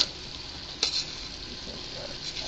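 White Zinfandel wine sizzles and bubbles away in a hot pan while minestrone soup cooks over turned-up heat, a steady close hiss with a brief sharper crackle partway through.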